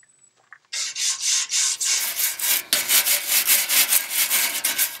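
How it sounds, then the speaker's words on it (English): A wire brush scrubs weathered paint off a metal garden bench in rapid, harsh back-and-forth strokes, close and loud, running continuously after a brief quiet opening. "I'm just going to give the bench a once over with the wire brush just to ensure that all of the bits of weathered paint come off."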